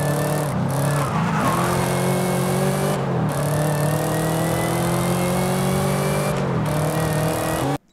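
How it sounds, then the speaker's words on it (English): A Chevy Camaro ZL1 in Forza Horizon 5 revs loudly and continuously, its engine note climbing and dropping through several gear shifts, with no talking. "Now we've got a Chevy Camaro ZL1."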